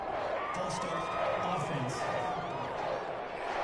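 A loud stadium crowd in the American football video game Madden 21 roars steadily with scattered cheers and whoops, a dense continuous din with talk mixed in.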